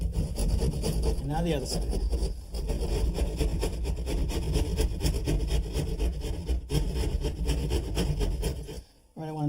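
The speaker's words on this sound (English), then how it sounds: "now I'm going to cut it with a keyhole saw." Keyhole saw cutting through a wall panel beside the studs, with rapid rhythmic rasping strokes at close range that continue almost without a break. A person briefly speaks over the sawing.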